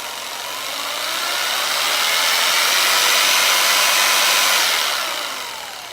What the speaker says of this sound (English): having the ability with the jigsaw to, be much quieter